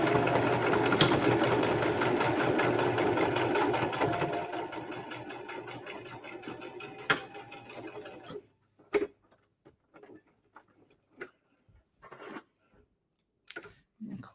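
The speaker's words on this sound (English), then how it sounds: "I'm going to go stick it underneath the machine. And sew her down." A sewing machine stitches fabric for a tissue holder, running in a steady dense whir for about eight seconds, then stopping into quiet handling clicks and short taps.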